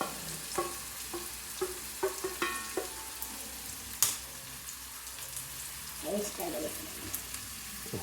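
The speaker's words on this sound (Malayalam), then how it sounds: "സോ നമുക്ക് ഇനി ഇതിലോട്ട് നമുക്ക് സവാള ഇടാം." Sliced onions sizzling in a hot pan for chicken curry, with scattered stirring scrapes and spatula knocks over a steady frying hiss, close and moderately loud.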